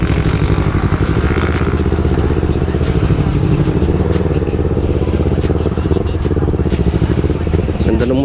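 A 400cc motorcycle engine runs steadily close by on an expressway, its continuous throbbing drone loud throughout, with voices talking faintly over it.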